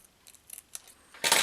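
Scissors cut paper while a picture frame is being made, heard as a few faint, quick snips that end in one louder, close crunching cut.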